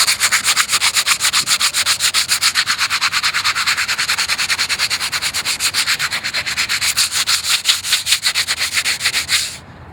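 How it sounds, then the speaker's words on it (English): Hand sanding concrete pool coping smooth for skateboarding, a loud close rhythmic rasp of fast back-and-forth strokes, evenly pulsed and continuous for about ten seconds before stopping. "I'll show you how to do that real quick, and then not that it's like a big skill to sand"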